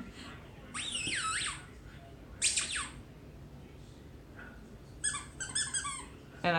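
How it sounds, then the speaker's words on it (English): A squeaky dog toy ball is squeezed in bursts of high, wavering squeaks, a long squeal, a shorter one, then a rapid cluster of short squeaks, heard indoors against a quiet background with a golden retriever nearby. "And he really likes the squeaks."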